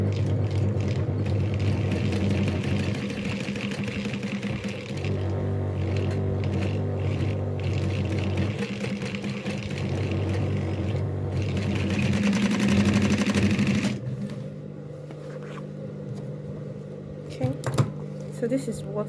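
A heavy-duty walking foot sewing machine stitches polished material while set up for lightweight fabrics. Its motor hums steadily and loudly for about fourteen seconds, then stops, leaving quieter mechanical clicks, with a voice talking over it.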